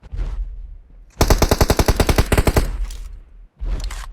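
Loud close bursts of automatic gunfire in PUBG Mobile, a rapid string of about a dozen evenly spaced shots followed by a shorter burst, with quiet gaps between.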